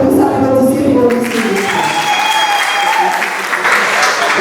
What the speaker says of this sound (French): Une fois de plus, applaudissez pour lui.